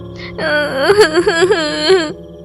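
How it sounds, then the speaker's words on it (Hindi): A high, quavering wail rises and falls in sobbing waves, loud and close, like an elderly woman crying out in grief. "बुढ़िया के रोने की आवाज"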